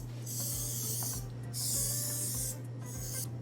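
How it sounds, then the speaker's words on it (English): Three short hissing bursts of release spray coat a banana-shaped brioche mold before dough goes in, each spray lasting under a second over a low steady hum. "I have to slightly spray it in order to release the ring more easily"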